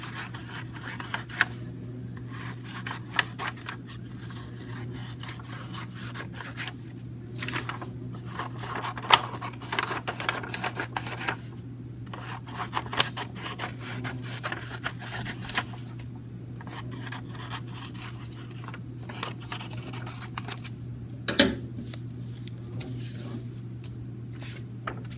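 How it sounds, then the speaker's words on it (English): Scissors snip straight strips from patterned paper, a steady run of soft rubbing cuts repeating close by, quiet and continuous over a low steady hum. "now I'm going to practice cutting some straight lines just up and down"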